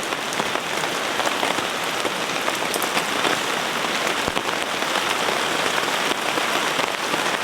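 Heavy rain drums steadily on a camp shelter, a dense, loud hiss of countless drops with no letup, recorded up close with no talking.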